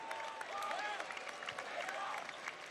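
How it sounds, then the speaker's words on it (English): Crowd applause from the home faithful at Thompson-Boling Arena during a Tennessee versus Arkansas college basketball game, a steady wash of clapping and crowd noise with a voice talking over it. "gets a round of applause from the Thompson Bowling faithful"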